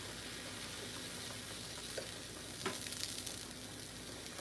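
A pot of beans boils on the stove with a quiet, steady bubbling hiss and a few faint clinks, and no one speaks.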